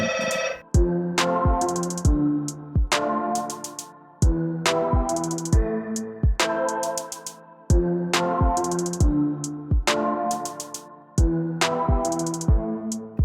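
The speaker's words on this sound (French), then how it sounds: "il y a le téléphone qui sonne." A telephone rings loudly and repeatedly, its electronic ringtone sounding in regular bursts with short pauses between them, alone with no talking.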